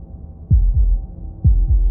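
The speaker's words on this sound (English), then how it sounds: "That was the sound of a heartbeat," Two heartbeats, each a deep, close lub-dub thump pair in a slow, even rhythm over a low background hum, with no other sounds.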